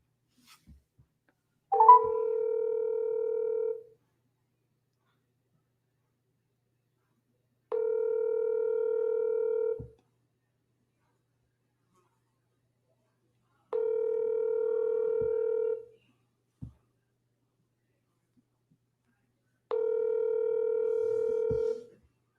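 Outgoing telephone ringback tone while calling a seller: four steady two-second tones spaced about six seconds apart, clear and alone with silence between.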